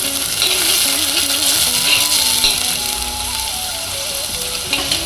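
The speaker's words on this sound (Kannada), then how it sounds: "ವಾಸನೆ ಹೋಗೋವರೆಗೂ, ಸ್ವಲ್ಪ ಎಣ್ಣೆ ಬಿಡೋವರೆಗೂ ಒಂದು ಸ್ವಲ್ಪ ಹುರಿಬೇಕು" Turmeric masala frying in oil in a pan, a loud, steady sizzle with occasional scraping stirs, no talking.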